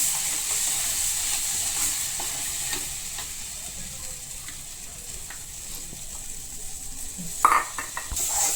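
Spice masala being sautéed in oil in a pan for chicken rassa, with a steady low sizzle under intermittent scraping and a louder clink of utensil against metal near the end, close by.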